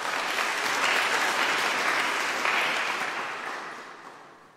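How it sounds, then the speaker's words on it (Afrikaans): A church congregation at the NG Kerk in Porterville claps hands together, a dense, warm wash of applause that holds steady and then slowly fades away. "Kom ons gee vir hulle lekker hande klap."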